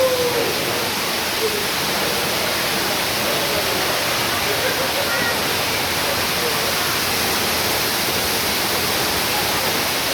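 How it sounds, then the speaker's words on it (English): Waterfall at Watkins Glen heard from the walkway behind the falling water, a dense, steady roar of spray and rushing water filling the whole clip at close range with no letup. "Yes, you can literally walk behind the waterfalls."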